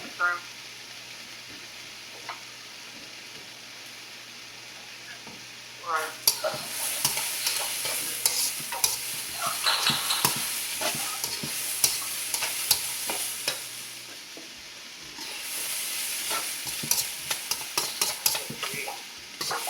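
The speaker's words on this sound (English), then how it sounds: "Make sure you keep constantly stirring your pan. We're going to let this cook for 1 more minute." Chicken stir-fry for ramen sizzles loudly in a pan with constant stirring and scraping. It starts quieter, then becomes a steady, crackling fry for most of the stretch.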